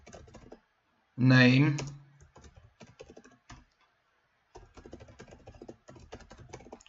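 Quick clatter of fingers typing on a computer keyboard, short bursts of light key clicks around a brief spoken word, close and fairly quiet.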